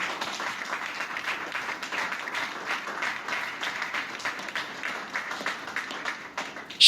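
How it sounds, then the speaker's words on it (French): Church congregation applauding in a steady, dense wash of clapping that holds evenly from start to finish, moderately loud and close, with no speech over it. "Je croyais que tu allais acclamer."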